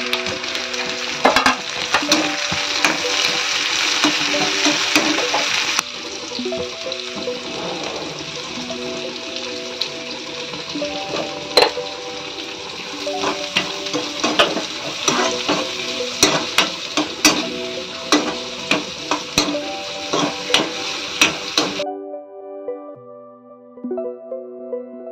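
Cabbage and capsicum with cornflour stir-fry in a pan, giving a steady close sizzle with repeated scraping and tapping of a spoon. The sizzle cuts out near the end, leaving a few taps.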